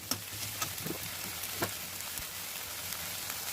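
Chopped tomato and ginger-garlic paste fry in a pan for a curry, a steady, even sizzle with faint crackles throughout and no talking.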